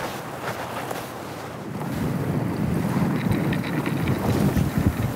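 Cold wind blows hard outdoors, a steady rushing roar that strengthens partway through and keeps buffeting the microphone without letup.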